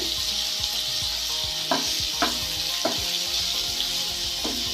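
Steady loud sizzling of an egg frying in hot oil, with occasional scraping clicks of a spatula stirring the pan.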